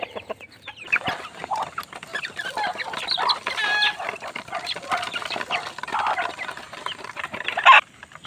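Young chicks at feeding time clucking and peeping in a busy, continuous chorus, close and fairly loud, with scattered pecking and scratching underneath and no talking.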